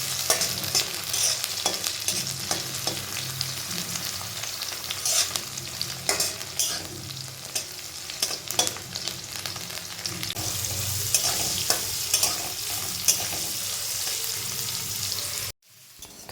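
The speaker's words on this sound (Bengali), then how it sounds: "তো একে একে আমি সমস্ত সবজিগুলোই এইভাবে একটু তেলে ফ্রাই করে নামিয়ে নিচ্ছিলাম।" Vegetables frying in oil in a home kitchen, with a steady sizzle under repeated scraping and stirring of a utensil against the pan, close and continuous until an abrupt cut near the end.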